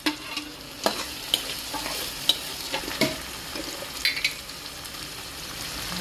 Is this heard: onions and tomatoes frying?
yes